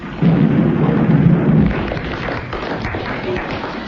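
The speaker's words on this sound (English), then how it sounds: "Suddenly, there is a tumultuous thunderclap." A loud, deep thunderclap rumbles in abruptly during a hurricane and rolls on as a broad, lingering roar.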